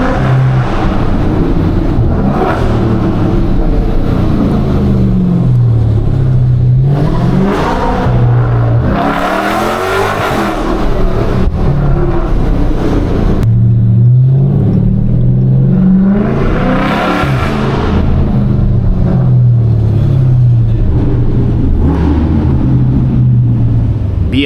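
Dodge Scat Pack and flame-tuned Infiniti G37 cruising downtown Charlotte, engines loud and close, rising and falling in repeated hard revs and accelerations over a constant road roar.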